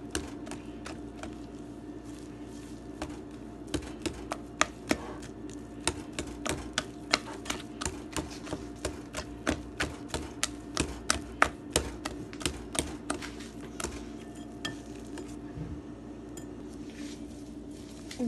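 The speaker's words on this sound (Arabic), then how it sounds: "وغنولي ندلكها شويه بيدي بعدا قبل حتى كتجمع ليا هكا" Dough is kneaded and pressed by hand for a chicken and vegetable chausson pastry, with a rhythm of soft, sticky taps and slaps that repeats steadily through the clip over a low steady hum, close and moderately quiet.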